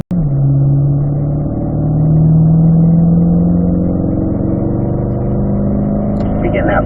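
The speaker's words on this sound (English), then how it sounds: "Go ahead and shift the cars up to 5th gear" Chevrolet Corvette C8 engine pulling steadily in fifth gear during driver training at Spring Mountain, a loud continuous mid-pitched drone with a rising tone, an instructor's voice coming in over it near the end.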